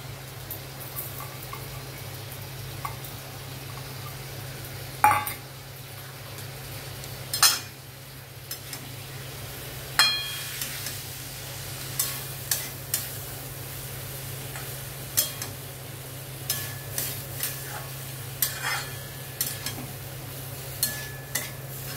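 Rice added to a pot and stirred with a utensil while cooking, a steady low hiss underneath with repeated sharp scraping clinks against the pot at irregular intervals.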